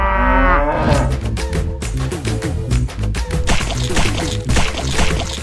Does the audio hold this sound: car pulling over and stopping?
no